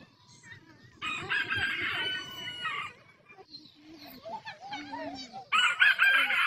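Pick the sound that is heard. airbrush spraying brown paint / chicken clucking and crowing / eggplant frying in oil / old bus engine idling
chicken clucking and crowing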